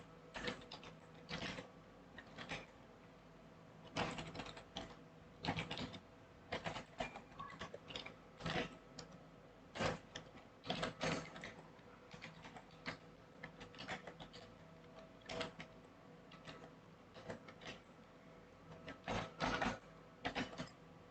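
Office printer running a print job, a quiet stream of mechanical clicks, whirs and ratcheting feed movements in irregular clusters over a low background hum, faint and close-by without speech.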